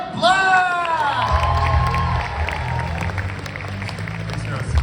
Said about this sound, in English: a huge round of applause for Virgin Radio's media personality, it's Brett Black!